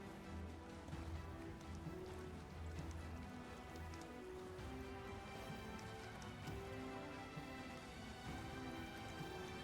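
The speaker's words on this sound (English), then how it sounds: "You hear rain to the left of you, rain above you, rain behind you." Faint rain ambience plays as background during a tabletop roleplaying session, a steady patter of drops with a low hum, quiet and continuous.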